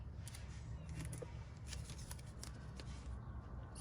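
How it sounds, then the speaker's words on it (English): Paper being trimmed for a junk journal, a faint, close run of quick crisp snips and rustles repeating over a few seconds with no talking. "I'm gonna go ahead and trim this because I know it's too long"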